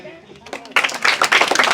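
Audience hands clapping together during a motivational speech, a burst of dense, close claps starting partway through and continuing loudly, with talk overlapping the start.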